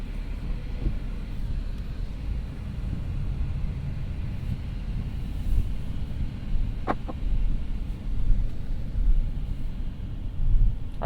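A 2021 Mercedes-Benz S500 on a hot-day test drive gives a steady low cabin rumble of engine and road noise, with faint wind and a brief click partway through, with no talking.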